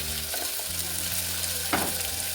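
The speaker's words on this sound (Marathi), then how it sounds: "त्यानंतर टाकते टोमॅटो परतल्यानंतर टोमॅटो मी धुवून घेतलेला आहे" Tomatoes sautéed in a new pressure cooker for masale bhaat, giving a continuous close frying hiss with one short scrape of stirring, under a steady low hum.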